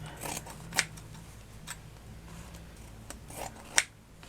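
Scissors snip through a piece of linen for a handmade scrappy flower, giving two crisp, close cuts about three seconds apart over faint room hum.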